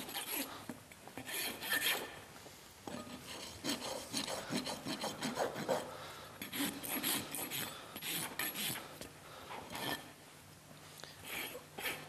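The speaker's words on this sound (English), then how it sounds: "I'll take my rasp. Rasp a nice flattened spot where a portion of my bar and my heel come together" A farrier's rasp files a horse's hoof during a barefoot trim, giving repeated rough scraping strokes in an uneven back-and-forth rhythm, close but fairly quiet.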